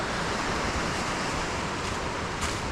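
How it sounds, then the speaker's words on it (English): River whitewater pours over stones and boulders where the current pushes from left to right, a dense, constant roar of rushing water close by with no voices. "This is where it goes over all the stones and the river gets pushed over from the left to the right here."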